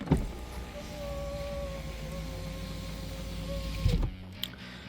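The driver's-side electric window of a Renault Megane III Grandtour estate car runs down and back up after repair on its mechanism, a steady whirring motor hum with a faint whine, ending in a clunk as the glass stops.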